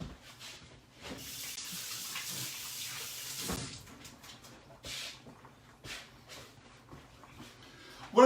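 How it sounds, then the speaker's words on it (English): Kitchen tap runs as a hand is washed beneath it, a soft splashing hiss lasting a few seconds, then a few bumps and clatters in a small home kitchen. "let me wash a hand here"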